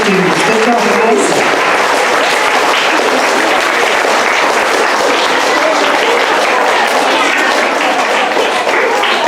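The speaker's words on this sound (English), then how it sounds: "big round of applause for our first row of AB honor roll students" A loud, sustained round of applause fills a school awards ceremony for AB honor roll students, dense clapping from a crowd continuing without a break, with voices mixed into the noise.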